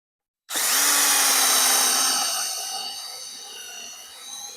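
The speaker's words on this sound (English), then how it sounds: "you want to drill a big enough hole" A power drill bores a hole large enough for a chain to pass through, starting abruptly from silence with a loud, high, steady whine that gradually slows and fades over several seconds.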